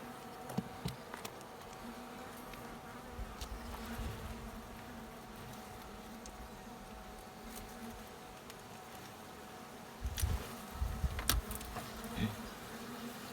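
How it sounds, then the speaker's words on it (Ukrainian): Bees at a log hive buzz continuously in a faint, steady hum, with occasional louder passes and rustling nearby, during wild honey harvesting. "Так, починається вже бджола."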